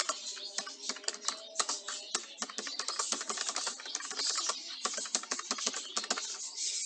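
Rapid, light tapping on the keypad of an old mobile phone, a quiet, dense run of small clicks typed in quick bursts close to the microphone.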